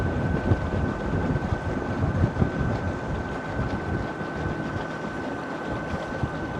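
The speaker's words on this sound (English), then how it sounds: "I'm not sure if you can hear the sound difference in the motors." A rudder-style electric outboard motor drives a small boat, producing a steady broadband hum with a thin constant whine, mixed with wind and water rush, continuous and fairly loud.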